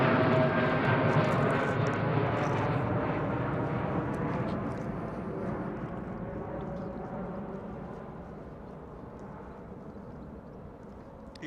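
A departing aircraft at London Heathrow passes overhead, a loud broad jet roar that slowly fades and lowers in pitch as it moves away.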